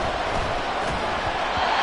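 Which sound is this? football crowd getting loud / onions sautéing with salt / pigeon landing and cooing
football crowd getting loud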